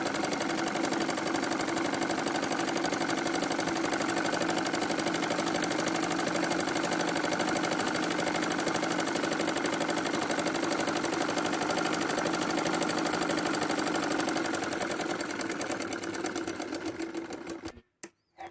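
A sewing machine stitches a salwar seam in one continuous rapid mechanical chatter, even and close for most of its length before slowing and stopping with a couple of final clicks; no one speaks.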